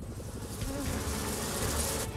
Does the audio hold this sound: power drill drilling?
no